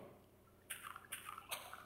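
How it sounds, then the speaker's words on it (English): Water flowing in the Minecraft video game, heard as three short splashy bursts about a second apart over a quiet background, each fading into a soft trickle. "And here comes the water."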